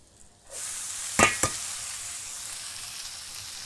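Chowmein noodles tossed into a hot pan of fried onion and chilli, rising from a quiet start into a steady loud sizzle, with a couple of sharp clatters as they are stirred.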